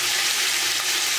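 Beef searing in a hot pan for Irish stew gives a loud, close, continuous hiss of sizzling with no pauses across a short stretch.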